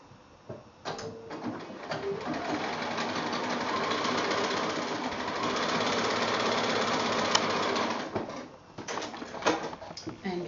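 Domestic sewing machine stitching three quilt block strips together, a fast continuous needle rattle running steadily for several seconds before slowing and stopping, fairly close with light background sounds.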